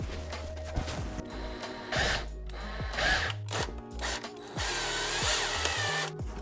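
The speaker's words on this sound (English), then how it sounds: "And screwdriver." A power screwdriver drives a screw into a motorcycle ice tire, whirring in short repeated bursts with pauses between, close and fairly quiet.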